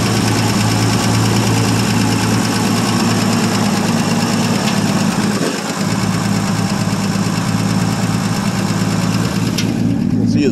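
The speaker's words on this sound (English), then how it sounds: "Nothing too exciting for sound, but this is a six-cylinder with a rigid muffler." A 1959 Ford F250 longbed stepside pickup with a six-cylinder engine and rigid muffler idles steadily after a cold start following about three years unused, with a constant close rumble through the whole stretch.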